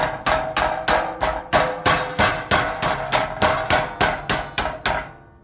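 A mallet hammers a sheet metal seam down flat, the HVAC metal bent up on a brake first. Loud, close metallic blows land in a steady rhythm of about a dozen, roughly two per second, with no talk.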